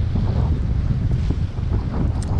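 Strong wind roars against the microphone aboard a sailboat in stormy, rainy weather, with rough waves surging and washing below in one steady, loud rush and no voices.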